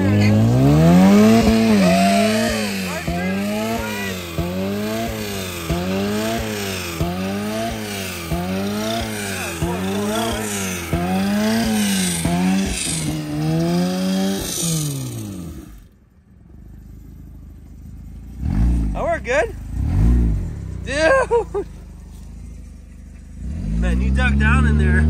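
A Honda Civic doing a burnout, its engine revving hard in a long series of rising and falling pulls for about fifteen seconds, then dropping off before a few short, loud bursts with voices in between.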